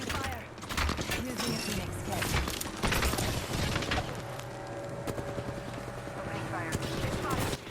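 Rapid bursts of gunfire from a ranked match in a video game, dense and continuous throughout, with a voice talking over the shooting.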